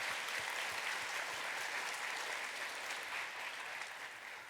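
A church congregation at a university worship service claps together in thanks, steady, dense applause from many hands at a moderate level, slowly easing toward the end.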